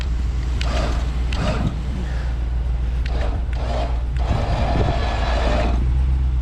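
A factory 12,000-pound winch on a RAM 2500 Power Wagon drags a parked truck by its rear wheels off-road, a steady low mechanical rumble with rougher bursts of strain running throughout, close and loud.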